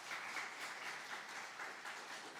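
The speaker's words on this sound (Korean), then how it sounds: "하나님께 영광의 박수를 올려드립니다." Congregation applause in a Korean church revival service, continuous dense clapping throughout, fairly close and steady with no speech over it.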